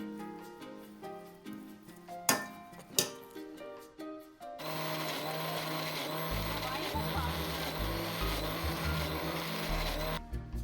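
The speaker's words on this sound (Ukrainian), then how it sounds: "перемішуємо і збиваємо у блендері." After a few clinks and knocks, a blender whirs loudly and continuously, its motor pitch shifting as it churns a thick paste of garlic scapes and sunflower oil.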